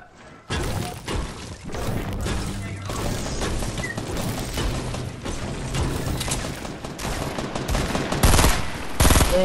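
Gunfire in a shooter video game rattles in dense, repeated bursts of shots and thuds for several seconds, mixed with voices talking over the action.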